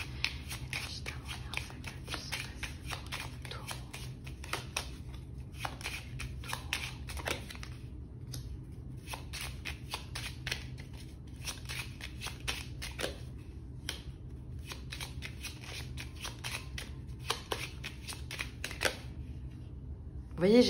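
Cards being shuffled from a 32-card tarot deck at close range, a steady run of soft riffling slaps and clicks over a low room hum, continuing throughout without speech.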